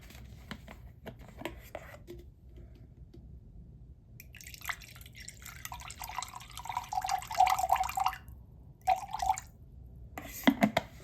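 Water trickles and splashes into a gel mixture for a caffeine and niacinamide under-eye mask, starting faint and growing into a steady pour with brief pauses, no talking.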